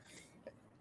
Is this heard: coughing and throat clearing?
yes